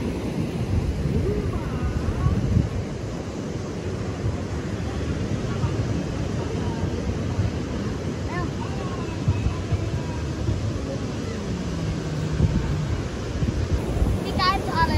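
Strong wind buffeting at a beach, a constant rough roar with gusty surges and possible surf underneath, loud and close, with faint voices in the background.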